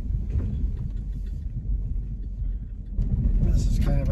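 A Jeep Grand Cherokee drives through water on a rocky mountain trail at Rollins Pass, Colorado, with a steady low engine rumble and road noise, swelling into a brief splashing surge near the end.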